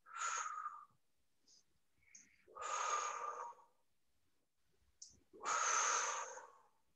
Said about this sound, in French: Et on fait sur trois respirations profondes.